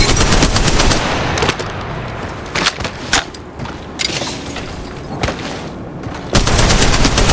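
Rapid automatic gunfire in an Apex Legends Mobile firefight, with loud dense bursts at the start, scattered single shots through the middle and another heavy burst near the end.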